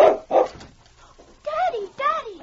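A dog in a radio drama set in the Yukon gives two sharp barks followed by whining, whimpering yelps, close and loud within a short exchange.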